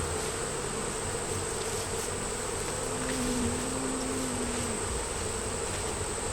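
Honey bees buzz around an empty hive box set before a hive entrance, a dense, steady hum of many wings up close, with one louder bee droning past for a moment.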